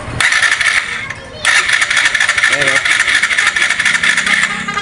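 A Suzuki Gixxer FI motorcycle with a check-engine fault cranks repeatedly without catching, the starter whirring and rattling loudly up close in two bursts separated by a short pause.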